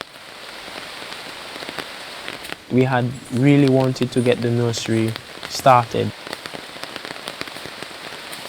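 Steady rain patters on a surface throughout. A person speaks over it for a few seconds in the middle.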